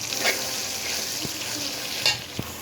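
Chicken pieces frying in a hot pan with a steady sizzle throughout, plus a few sharp scrapes and clinks of a utensil stirring, fairly close and without talk.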